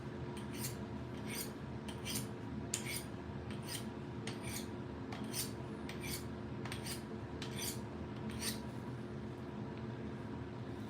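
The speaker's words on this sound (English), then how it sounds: "We'll just hone this up just real fast so it slices through real good." A knife is honed on a Work Sharp sharpener in a string of about a dozen quick, evenly spaced scraping strokes, each a bright raspy swipe, over a steady low background hum with no talk.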